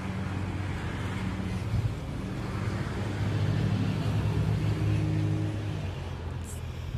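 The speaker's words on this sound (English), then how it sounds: "Sorry, bunch of cars going by." Several cars drive past on a nearby road beside a garden in late fall, a steady low tire-and-engine rumble swelling and easing over several seconds, moderately faint, with no talk.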